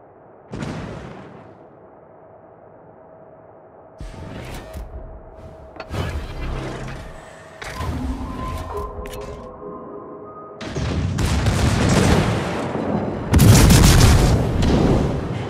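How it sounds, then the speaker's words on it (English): Heavy naval guns fire on an enemy warship in a video game: loud booming blasts with rumbling tails arrive every few seconds, growing denser and louder toward the end. "Concentrate fire on the enemy warship."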